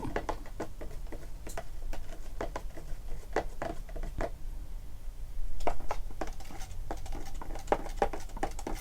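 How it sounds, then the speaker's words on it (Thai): A spoon stirring watermelon Italian soda in a glass makes a quick, irregular series of light clinks and taps against the glass, close up and fairly quiet. "คราวนี้คนให้เข้ากันนะครับ"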